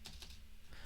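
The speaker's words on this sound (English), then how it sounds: "Why am I typing this?" Computer keyboard typing during a coding session: a short, quiet burst of a few soft key clicks with no one talking.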